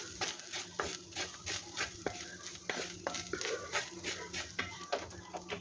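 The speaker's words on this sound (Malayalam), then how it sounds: "ഇനി ഇതിലേക്ക് കുറച്ച് ഈത്തപ്പഴം കുരു കളഞ്ഞ് ഞുറുക്കിയെടുത്തതാണ്. അതും കൂടി അതിലേക്കിട്ട് നന്നായിട്ടൊന്ന് മിക്സ് ചെയ്യുക." A spoon stirs a coconut mixture with chopped pitted dates in a pan, making quick repeated scrapes and light clinks against the metal over a soft sizzle, close up with no talking.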